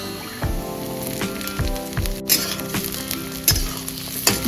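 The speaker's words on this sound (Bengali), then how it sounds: "এই পর্যায়ে আমি দিয়ে দেবো কেটে রাখা একটা গোটা টমেটো কুচি" Chopped tomato drops into onions frying in a pan for mutton-fat ghugni, a bright, loud sizzle broken by several soft thuds and stirring knocks as the pieces hit the pan.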